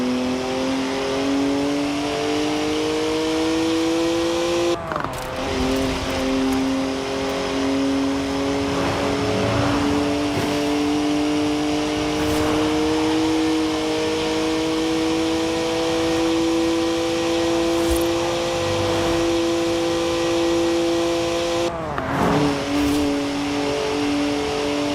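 A BMW 3-litre twin-turbo straight-six with 335 horsepower revs hard and steadily in Forza Horizon, a loud sustained engine drone with rising pitch, broken by two brief gear-change dips.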